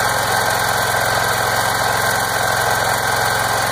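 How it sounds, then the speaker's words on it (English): A small engine running on charcoal gas chugs steadily at a constant idle-like pace, close and loud, with a continuous rough mechanical rattle and no talking. "Seems to run just as well on charcoal as it would on the gasoline."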